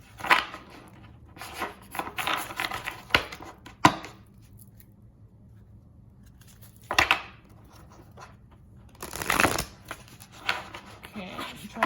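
Several short bursts of crisp riffling shuffles of a deck of oracle cards, separated by quiet pauses, with faint background talk between them.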